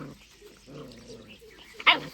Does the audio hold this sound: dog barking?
yes